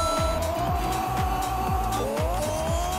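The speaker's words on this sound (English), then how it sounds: "You're gonna hit the NOS right now." Game engine audio from Pixel Car Racer as a car downshifts and fires its nitrous boost, a steady loud engine tone with rhythmic gear-change pulses and a rising whine partway through, with no talking.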